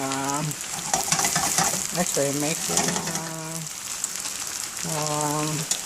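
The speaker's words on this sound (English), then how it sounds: "So, use the oil to fry more." Food frying in oil on a home stove, a steady close sizzle and crackle that runs throughout under a voice talking in several stretches.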